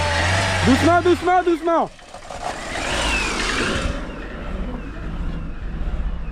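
An old barn-find Peugeot 307 engine cranks and briefly catches with a rough, wavering rev, then cuts out into quieter idle-like rumble; a voice speaks briefly nearby.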